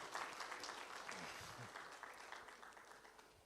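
Faint, distant applause from a workshop audience for Professor Florence Rutagarama of the University of Rwanda's medicine and pharmacy school, a soft steady patter with a murmur of voices underneath.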